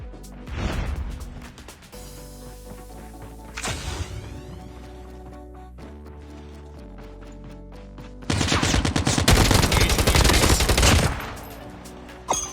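Close-range aimed-down-sight gunfire in a Battle Royale video game: bursts of rapid shots, then a long, loud, sustained volley near the end, over a steady game background hum.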